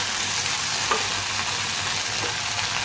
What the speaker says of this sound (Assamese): তাৰপিছত ৰাজমাখিনি দি ভাজি লওক